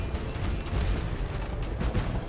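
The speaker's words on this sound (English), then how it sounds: "Get a cannon broadside for the win, sinking that ship" Cannon broadside fired at a ship in the Pirates Online game, heard as a dense, continuous rumble of overlapping booms and blasts that stays loud throughout.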